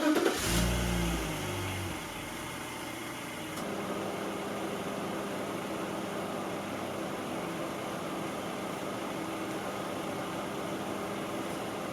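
A BMW E46 wagon fires up with a brief, loud rev right at the start, then settles into a quiet, steady idle hum with no talking.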